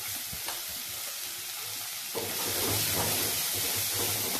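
Sliced onions frying in a pan for masala dosa filling, a steady close sizzle and hiss that grows louder midway, with stirring scrapes and no talk.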